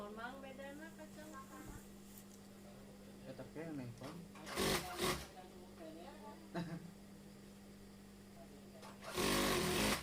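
A sewing machine hums steadily at close range while stitching along the edge of ironed stiffened fabric beside embroidery, running under a person talking, with a few louder bursts of mechanical rattle.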